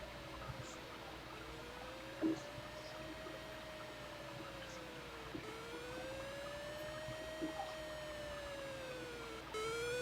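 A siren tone from a TI BASIC type-in program on a home computer rises and falls in slow smooth sweeps, faint and steady against a noisy hiss, with a few small clicks.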